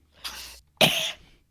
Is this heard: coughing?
yes